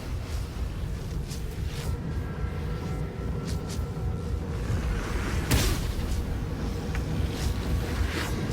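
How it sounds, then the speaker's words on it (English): An explosion in the video game Baldur's Gate 3 lands as a single sharp blast midway, rising out of a steady, rumbling wash of battle ambience that continues evenly before and after it. "Okay, they're gonna explode. Alright. Explosion imminent."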